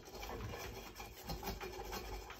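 Steady rubbing and rasping as paint is scrubbed off a metal Apollo Stingray HVLP sprayer, a continuous close scratchy scrubbing with a faint pulsing rhythm and no talk.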